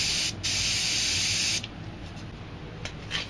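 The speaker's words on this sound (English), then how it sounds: "Spray some white," A spray paint can sprays white paint in a steady, loud hiss for about a second and a half, then drops to faint, intermittent short bursts, close to the listener with no talking.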